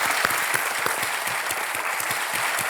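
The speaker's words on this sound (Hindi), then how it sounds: "एक बार फिर तालियों के साथ।" A television game-show studio audience bursts into sustained, dense applause, a steady wash of many hands clapping at close range with no speech over it.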